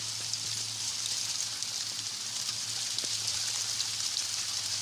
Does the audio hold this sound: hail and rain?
yes